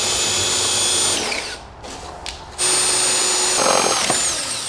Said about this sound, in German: Die Löcher im Rahmen mit einem Metallbohrer vorbohren.